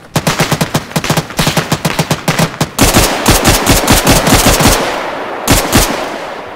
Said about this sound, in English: That's a vehicle mounted 50 cal going off.